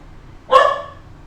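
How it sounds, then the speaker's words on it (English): A single sharp dog bark rings out close by, one short bright yelp rising out of a quiet room and fading quickly. "There's my dog."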